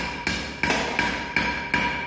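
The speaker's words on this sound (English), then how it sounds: "by using the hammer and by holding with tongs, we'll hit it" A hammer strikes red-hot metal held with tongs on an anvil during forging, five sharp metallic blows at a steady rhythm, each ringing briefly before the next, heard close with no talk.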